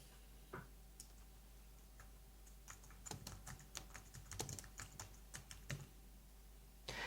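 Someone typing on a computer keyboard in a quiet room, a few isolated key taps followed by a steady run of close, faint clicks and a final tap.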